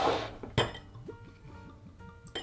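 Glen Grant Arboralis single malt Scotch whisky glugs from the bottle into a glass in a rapid rhythmic series of pours, with a sharp glass clink at the start and another at the end, close and fairly quiet.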